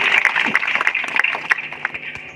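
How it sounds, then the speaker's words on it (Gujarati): Audience applause at a village ceremony honouring officials during a Viksit Bharat Sankalp Yatra event, dense steady clapping from a crowd throughout, fairly loud and close with no talk over it. "આપણે સૌ એમને જોરદાર તાળીઓથી વધાવીશું."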